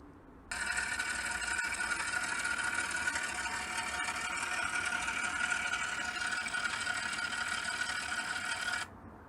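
A Hornby model locomotive runs with its decoder sound on, a steady close whirring, rasping hum that starts abruptly, holds evenly for about eight seconds and cuts off sharply.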